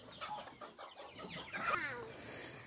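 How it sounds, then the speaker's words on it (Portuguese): Rooster at a farm nursery calling among other fowl, a drawn-out crow of moderate loudness with clucking around it, fairly close, with no talk over it. "Olha o galo cantando."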